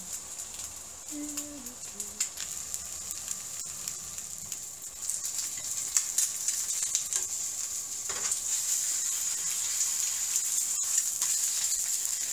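A flipped egg frying over medium in a pan, steady close sizzle that grows a little louder partway through, with a few faint clicks and chirps in the background.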